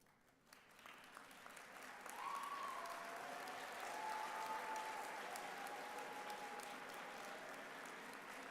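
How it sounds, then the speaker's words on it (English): Graduates at a UNLV School of Nursing recognition ceremony applaud in a large hall, a dense, steady wash of clapping that swells after the first couple of seconds and holds loud throughout, with a faint tone sounding above it. "I'd like all the graduates to stand and applaud your chief supporters."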